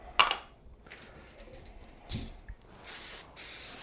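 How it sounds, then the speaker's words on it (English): Cooking spray hisses onto a cooking sheet in short, separate bursts, a faint quick spritz followed by louder, longer sprays near the end, with soft handling noises in between. "cooking spray."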